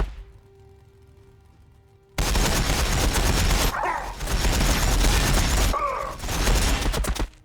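Rapid bursts of gunfire from Ork and Blood Angels units in a Warhammer 40,000 video game battle. A low quiet hum gives way to loud, dense volleys that pause briefly and then resume.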